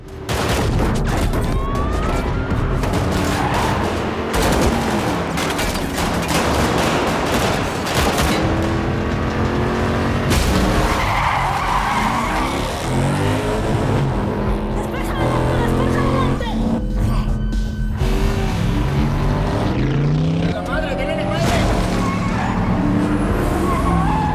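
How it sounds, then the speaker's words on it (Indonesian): A car chase along a Mexico City highway: tires screech and skid repeatedly, engines roar, and sharp bursts like gunfire and crashes pile up in loud, continuous action. "Kejar-kejaran pecah di jalan raya Mexico City."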